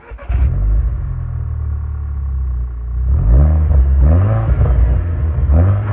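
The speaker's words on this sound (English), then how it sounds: "I think we should start it up now and give it a couple of revs." A 2011 Volkswagen Scirocco R starts up with a sharp crank and settles into a deep, close idle rumble. A few seconds later come several loud rising-and-falling throttle revs.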